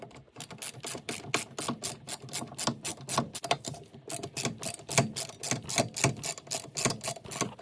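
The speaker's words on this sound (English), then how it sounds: "I got the 2 bolts out of the back of this bracket now" A hand ratchet spins out the rear brake caliper bracket bolts on a Dodge Charger, giving a close, steady run of rapid clicking bursts that continue almost without pause.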